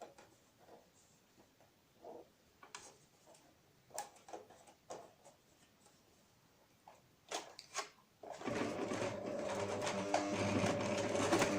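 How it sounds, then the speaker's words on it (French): A sewing machine stitches a ribbed seam on a fabric face mask, starting after some handling clicks and then running steadily and closely for the last few seconds. "Et je vais coudre une couture nervure."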